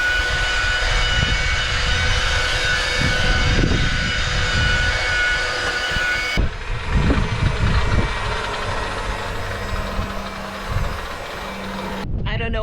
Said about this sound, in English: I'll move along the port side of the boat and start grinding off paint